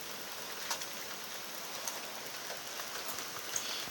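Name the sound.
heavy rain falling outdoors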